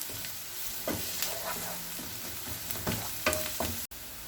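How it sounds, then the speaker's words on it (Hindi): Steady sizzling of garlic paste frying in a hot pan, with occasional scrapes and stirring clicks, close up and continuous. "अब इसमें 1 चम्मच लहसुन पेस्ट शामिल करेंगे, इसे भी फ्राई कर लेंगे।"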